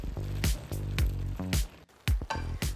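Pasta and broccoli stirred in a pan with ladles of pasta cooking water, giving repeated wet squishing and scraping strokes with sizzling, bubbling texture, close and steady with a brief lull midway.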